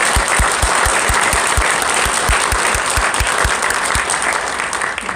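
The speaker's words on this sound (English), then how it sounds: "we can applaud that" Sustained audience applause at a conservative political lecture, a dense wash of many hands clapping steadily and loudly throughout, with rhythmic low thumps running under it.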